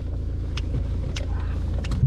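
A car drives between sightseeing stops in Northern Ireland, a steady low road rumble from inside the cabin with a few faint clicks and light wind noise.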